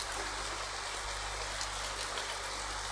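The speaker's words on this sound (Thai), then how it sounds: "ฝนตกเป็นสายฝนฝนตกเป็นสายฝน" Steady rain pours down in the horror game Ao Oni as a dense, even hiss of broadband noise that holds unchanged from start to finish, with no voices over it.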